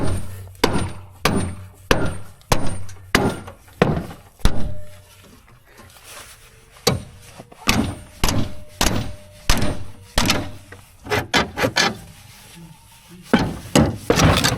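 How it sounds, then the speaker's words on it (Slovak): Steady hammer blows ring out close by while repairing a tractor trailer, in uneven bursts, some quick strings of strikes, others spaced apart, with short pauses between runs. "Kladivo a také veci."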